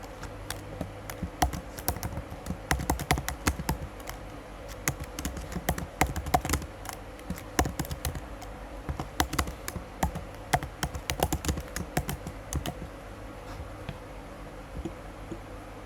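Fast, uneven typing on a computer keyboard while a form is filled in in Excel, a dense run of close, light key taps with short pauses, no voice.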